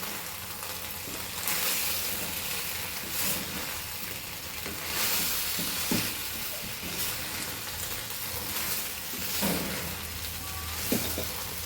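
Soya chunk manchurian tossed with spring onion in a hot pan, a steady sizzle and hiss with scattered scraping clinks of the spatula against the pan, moderately quiet and without talk.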